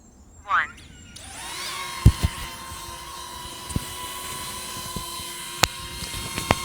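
A DJI Neo 2 drone hovers with a steady high-pitched whine and layered tonal hum that holds constant throughout, with occasional sharp clicks and knocks nearby.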